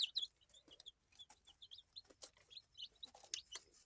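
Chickens clucking and chirping in quick, overlapping calls, fairly close but soft, with no talking.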